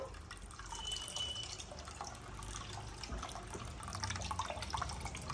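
Water drains away from freshly made paneer for ras malai, a faint, steady trickle with soft drips continuing throughout.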